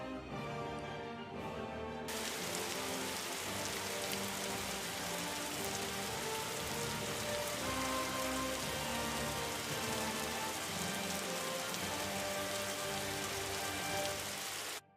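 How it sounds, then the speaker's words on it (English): Heavy rain pours steadily across a game scene built in Unreal Engine 5, a dense continuous hiss of drops drumming on surfaces that stays loud and even throughout, with no talk. "heavy rain"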